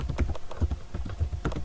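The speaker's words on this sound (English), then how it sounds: "I am typing" Keys tapped on a computer keyboard during a classroom computing lesson, a quick irregular patter of soft close clicks in small bursts, no speech over it.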